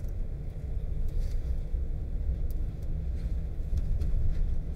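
A car driving across a frozen fjord of sea ice in Sweden, with a steady low rumble of engine and tyre noise filling the cabin, constant and close throughout.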